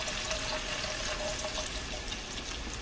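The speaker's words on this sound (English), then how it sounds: "Now we're going to add the broth." Broth poured steadily into a cooking pot for a German bread soup, a continuous close splashing liquid pour running the whole time with no talking.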